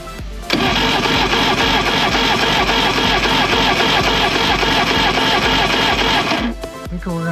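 An Evinrude 200hp outboard engine cranks over for a compression test, with a rapid, even chugging starter rhythm that runs loud and steady for several seconds and then stops abruptly.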